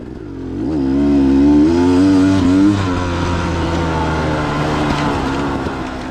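A dirt bike engine on a rocky trail descent into a hairpin, revving up sharply then holding a steady, close, loud drone with some clatter from the terrain.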